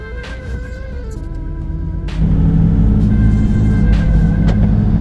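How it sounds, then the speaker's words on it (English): A 2018 Volkswagen Golf R engine idling, then the car pulls off as the rumble steps up to a louder, steady drone with a low, even growl. "All right, let's start the car up and see how it goes."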